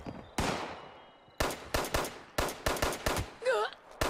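Fallout 76 in-game gunfire: a handful of sharp, close shots in quick irregular succession, some doubled, each with a short decaying tail, then a brief warbling effect near the end.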